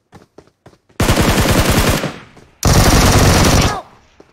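Two long, loud bursts of rapid automatic gunfire from a weapon in the mobile battle-royale game PUBG Mobile, each lasting about a second, with a few quieter clicks before them.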